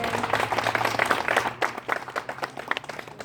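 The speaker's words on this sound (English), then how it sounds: "Let's give all the community folks a round of applause." A crowd at an outdoor community gathering for a Hollywood bridge housing project breaks into a steady, fairly loud round of applause that carries on for several seconds with scattered sharper claps.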